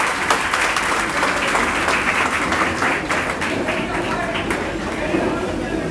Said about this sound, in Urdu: زوردار تالیوں سے ان کا استقبال کرتے ہیں